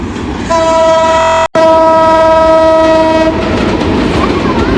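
A train passes close by, blaring a loud sustained horn for a few seconds over the heavy rumble and clatter of wagons rolling past.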